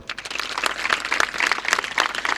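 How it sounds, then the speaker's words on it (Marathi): An audience at a Jijau Jayanti speech claps together, a dense, steady patter of many hands at moderate loudness, with no talking over it. "या सगळ्यांसाठी टाळ्या वाजवू आपण"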